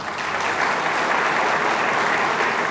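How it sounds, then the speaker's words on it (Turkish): Sustained applause from a large indoor crowd at an official gathering, greeting the young Memur Sen union president, a steady dense clapping held at one level from start to finish. "bir alkışla ben isteyeyim mi?"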